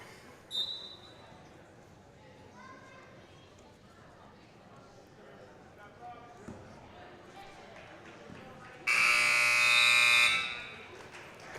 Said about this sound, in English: Can still hear that buzzer.